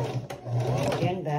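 Sewing machine stitching a seam on a drum bag, a close steady mechanical hum and rattle running throughout, with a voice speaking over it.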